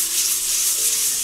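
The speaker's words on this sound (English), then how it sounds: "The last step on this is going to be just hand sanding." Continuous, even rubbing of sandpaper by hand across a metal Honda part, a steady hiss with no pauses, close and moderately loud.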